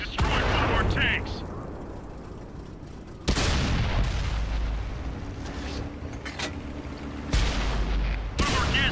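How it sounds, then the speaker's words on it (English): Artillery fire in the tank battle video game World of Tanks, heavy booming blasts at intervals with rumbling decay, mixed with people talking. "Heads up, artillery. They destroyed one of our tanks."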